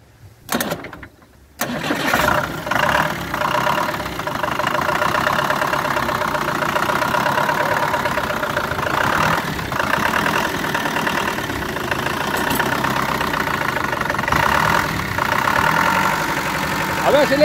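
An old Rastrojero truck engine, unused for 30 years, cranks briefly and then catches, settling into a steady, slightly rough idle that runs close and continuous with occasional surges in revs.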